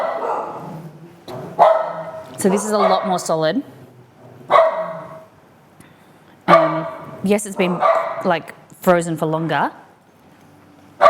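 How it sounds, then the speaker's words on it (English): A dog barks repeatedly indoors in a kitchen, sharp yips and bow-wows in clustered bursts, some whining, close and fairly loud, with a person talking in between and over them. "Sorry for the barking."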